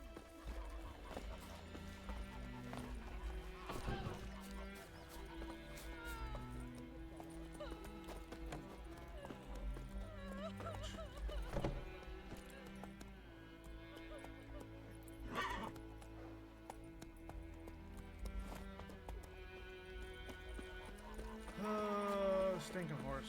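Horse hooves clopping and a whinny in The Witcher 3 game soundscape, steady galloping rhythm with music and voices running throughout.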